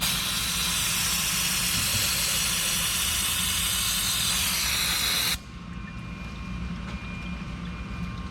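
A steady, loud spray hisses over a Chevy 1.8 engine for about five seconds, then cuts off abruptly, leaving a quieter background hum.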